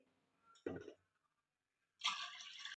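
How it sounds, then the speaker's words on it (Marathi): Water is poured from a vessel into dal in a pot for dal tadka, a short splashing rush after a brief muffled knock. "ह्याच्यामध्ये पाणी वतून घेऊ"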